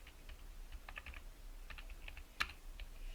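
Keystrokes on a computer keyboard as an ad headline is entered, soft and fairly close: short bursts of clicks with brief pauses and one sharper tap near the end, no voices.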